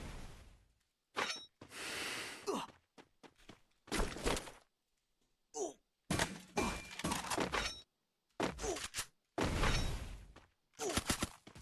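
Bursts of gunfire in the battle royale game Free Fire, loud irregular volleys with sharp cracks and breaking sounds separated by silent gaps.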